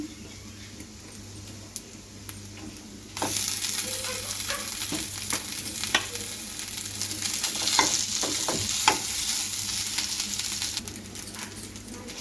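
Browned grated coconut and rice frying in a hot pan, a steady sizzle that swells loud partway through, with scattered clicks and scrapes of stirring.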